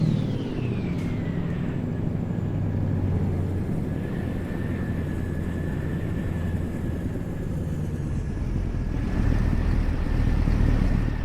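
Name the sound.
truck engine revving in American Truck Simulator video game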